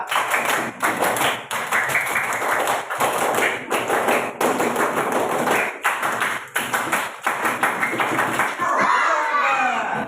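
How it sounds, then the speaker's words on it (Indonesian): Indonesian scout clap routine repeated three times by a group in a classroom, a fast rhythmic series of sharp claps and taps in patterned bursts with short pauses, ending with a brief swell of voices. "Tiga kali tepuk pramuka."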